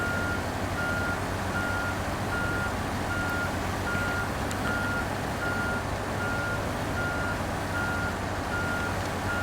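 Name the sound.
truck reversing beeps in Snowrunner video game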